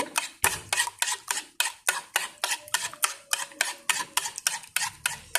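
Food is stirred in a frying pan, with a steady rhythmic series of sharp utensil scrapes and taps against the pan, close and regular.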